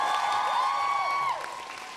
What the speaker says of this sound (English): if we can give her a huge cheer